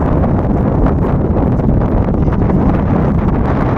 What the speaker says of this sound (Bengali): বাতাস বেশি আছে তো